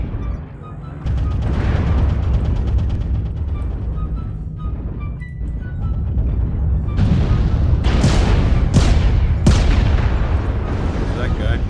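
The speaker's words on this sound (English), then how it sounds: "Artillery strike online." Artillery strike explosions in MechWarrior Online rumble heavily beneath a steady mech engine drone and game noise, with loud booms and sharp blasts building toward the end.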